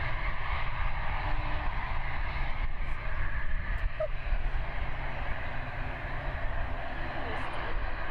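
A steady, broad engine drone from an ATR turboprop airplane passing overhead near Christchurch airport, continuous and moderately loud throughout, with faint voices in the background.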